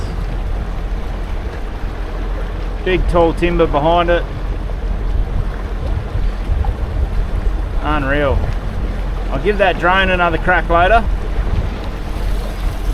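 A small boat cruises on Lake Argyle near Kununurra, its motor and wind rushing past the microphone in a steady loud rumble with water noise, while someone talks over it at intervals.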